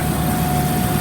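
A Super M tractor engine runs at a steady idle-like rumble, close and continuous with no talk, on a farm where it has been grinding feed for a grinder mixer.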